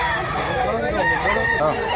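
A rooster crows loudly and close by at a market where sellers bring fighting cocks, a drawn-out wavering call over a busy background, with people talking at the same time.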